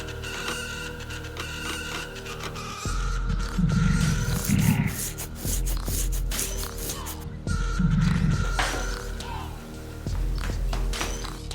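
A gorilla roars in the Zoochosis video game, two loud guttural roaring bursts with grunts over a low rumbling ambience, separated by quieter stretches.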